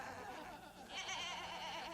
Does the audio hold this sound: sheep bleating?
yes